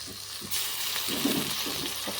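Green chilies and tomato pieces frying in oil with ginger-garlic paste for egg biryani, a steady moderate sizzle with a louder burst after the ingredients go in, no talking.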